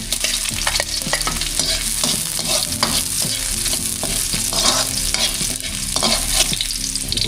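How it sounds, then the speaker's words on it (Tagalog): Garlic sautés in a little cooking oil, giving off a loud, continuous crackling sizzle up close, with steady stirring scrapes mixed through it from start to end. "Maglagay na tayong mantika. Konti lang. Bawang sibuyas. Ilagay natin yung bawang."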